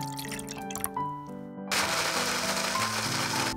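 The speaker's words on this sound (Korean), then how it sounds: "불린 캐슈넛에 소금과 두유를 넣고 믹서기에 갈아줍니다." A blender grinds soaked cashews with salt and soy milk. After a moment of light background music, a steady loud whirring roar starts abruptly and runs on continuously.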